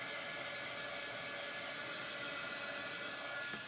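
A hair dryer blows steadily on a chalk craft project, a constant loud whooshing hiss that holds unchanged throughout, with no talking.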